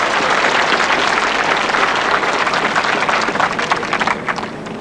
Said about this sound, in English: Plenty of applause there from a partner.